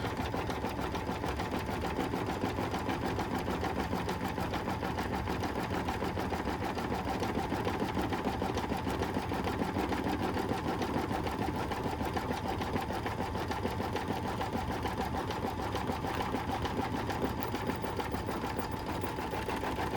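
A sewing machine stitches steadily around the top edge of a wet bag, tacking down a fabric piece with a continuous close motor whir that holds even and loud throughout.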